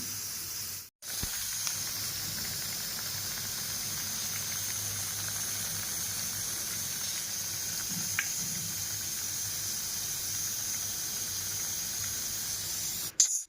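Steady hissing sizzle of vadas frying in hot oil, continuous and fairly close, with no voices.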